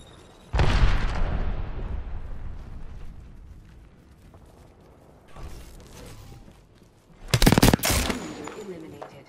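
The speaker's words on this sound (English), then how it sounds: "Look out, grenade." Grenade blast and gunfire in the video game Apex Legends: a loud burst opens, sustained rumbling and crackling follow, and a second sharp cluster of heavy shots or blasts lands near the end, with some voice underneath.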